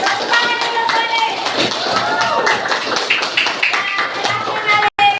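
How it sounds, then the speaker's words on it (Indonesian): Children in a classroom clap their hands for a classmate. The clapping is loud, quick and uneven. Voices chatter underneath, and the sound cuts off sharply near the end. "Tepuk tangan dulu, Alif"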